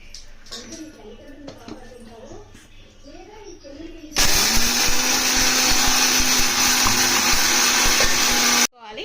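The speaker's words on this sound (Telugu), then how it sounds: "మనం వేయించినవి అన్నీ ఇట్లా మిక్సీ పట్టుకోవాలి మెత్తగా." A kitchen mixer grinder whirs loudly and steadily as it grinds roasted sesame seeds, lentils and millets, starting abruptly after a few seconds of quieter background and cutting off near the end.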